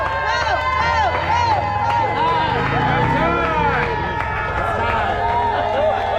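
Large outdoor crowd at a Fourth of July hot dog eating contest in Oak Harbor, Washington, loud and continuous with cheering, scattered clapping and dense babble, several voices shouting over the roar throughout.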